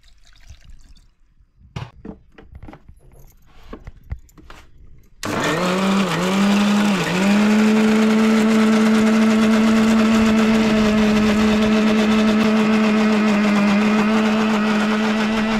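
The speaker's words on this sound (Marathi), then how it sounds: "हा जो क्रॅब आपण ठेचलेला आहे हे मिक्सरमध्ये ग्राइंड होणार आहेत." A mixer grinder grinds crushed crab, starting abruptly after a quiet stretch of faint handling clicks, then holding a loud, steady motor whine with a brief dip in pitch before settling into continuous grinding to the end.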